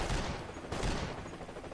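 Gunfire in the Max Payne 3 video game, a sustained barrage of overlapping shots with a heavier burst partway through, fairly quiet and continuous.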